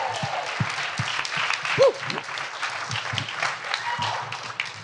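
Audience applause at a Comic Con panel for Clerks in Rhode Island, steady crowd clapping throughout with a few louder individual claps standing out and a brief voice or whistle partway through.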